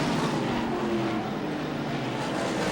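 Race cars circling an oval track in close traffic during the 1987 Miller 300, a steady loud engine roar with no break, overlapping motors droning together throughout.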